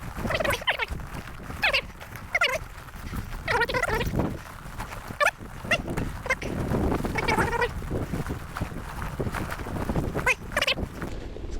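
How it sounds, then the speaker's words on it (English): Cows with their calves standing on a rural road in Scotland, giving repeated bleating moos one after another at close range, steady and fairly loud with no talking. "There's cows."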